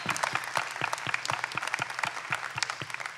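An audience at a Christmas special claps in steady applause for a moment, with a dense patter of hands throughout and a faint voice underneath.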